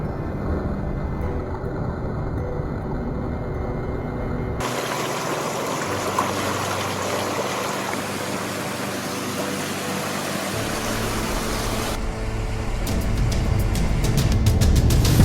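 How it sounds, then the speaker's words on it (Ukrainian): Rushing water roars steadily over rocks, loud and close, with the tone shifting partway through as if moving nearer the rapids. "В цьому місці, напевно, найбільший перепад пороги, тому річка так бурно тече."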